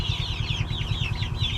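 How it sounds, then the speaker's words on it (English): Barred Rock chickens, black hens with white stripes, cluck and chatter in a steady overlapping murmur close by, with a low continuous rumble running underneath. "These are barred rock. Kind of a black with white stripes kind of a chicken."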